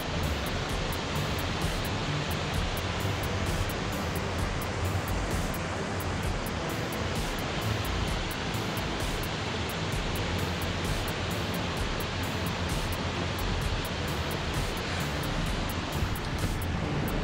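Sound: big waterfall in Tallulah Gorge heard from an overlook

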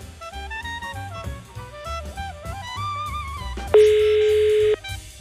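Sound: telephone dial tone while calling someone

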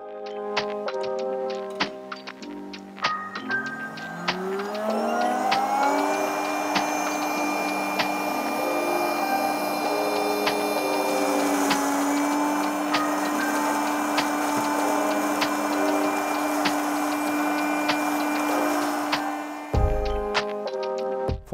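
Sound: PULVERISETTE 14 variable speed rotor mill cryogenic grinding

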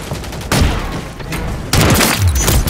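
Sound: stun grenade explosion in the video game Call of Duty MW3

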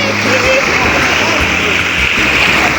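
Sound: sea waves at the shore

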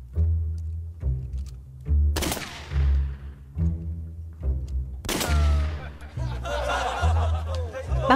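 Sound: gunshot

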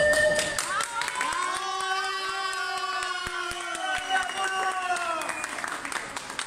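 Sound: applause for the Chilean clown Cuchilla

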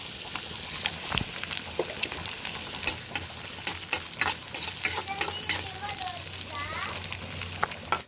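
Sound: onions frying in oil in a pan

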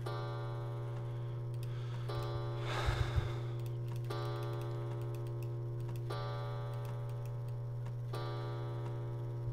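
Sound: clock ticking in a video game

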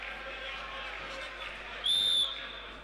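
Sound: referee whistle for a foul in basketball game

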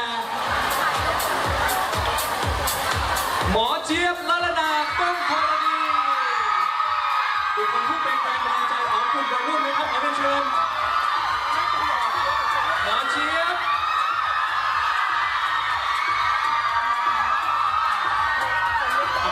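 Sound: crowd screaming and cheering

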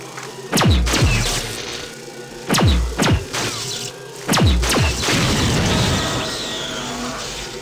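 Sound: turret firing rockets in video game System Shock 2

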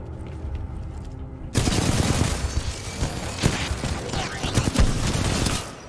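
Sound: gunfire shooting at the player, from the video game Titanfall 2

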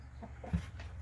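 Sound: chickens clucking at chicken coop

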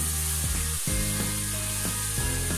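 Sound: ground spices sizzling while being stir-fried in pan

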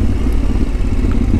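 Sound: Yamaha Tenere 700 motorcycle riding off-road

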